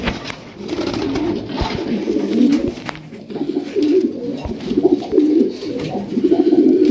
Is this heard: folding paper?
no